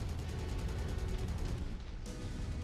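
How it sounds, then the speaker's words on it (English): Rapid machine gun fire in MechWarrior 5: Mercenaries rattles in a dense, continuous burst of repeated shots over a low rumble, loud and sustained, then briefly cuts off near the end. "What are we taking machine gun fire from?"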